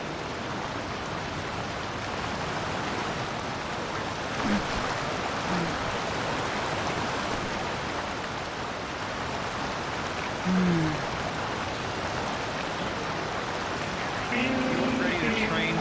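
Waterfall in a metaverse roleplay game, a steady, loud broadband rush of falling water filling the whole stretch, with faint voices briefly surfacing over it.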